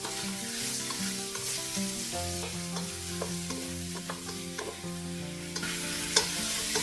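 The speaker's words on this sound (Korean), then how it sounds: "냄비가 달아오르면 고기를 넣고 표면이 익을 때까지 볶아줍니다." Meat stir-fries in sesame oil in a hot pot, giving a continuous sizzle with light stirring scrapes, set under steady background music.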